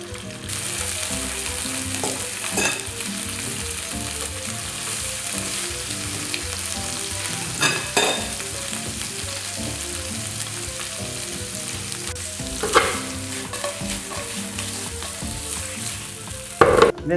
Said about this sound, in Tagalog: Now let's saute our prawns.